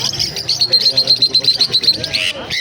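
A pair of red jandaya conures at a bird market give rapid, repeated shrill chirps in a steady rhythm, loud and close, with busy market background beneath.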